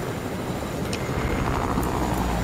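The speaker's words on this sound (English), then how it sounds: "Let me open the chopper." A helicopter in a video game drones with a steady rotor and engine rumble, moderately loud and continuous, with a few small game sounds over it and no talk.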